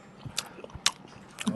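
Close, soft chewing and biting on a snack, scattered crunchy bursts over a quiet background in an ASMR eating setting, with no talk.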